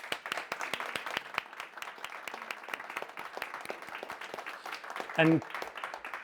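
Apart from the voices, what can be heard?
audience applause for two speakers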